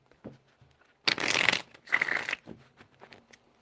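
Two quick bursts of cards being riffled and shuffled, close and crisp, with faint soft handling noises between them.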